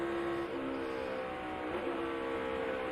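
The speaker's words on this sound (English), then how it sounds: "Hit that downshift in the middle of 3 and 4" NASCAR Cup Series race car at Kansas, a steady, loud engine drone with tonal whine that dips and shifts in pitch partway through, heard from a distance at the track.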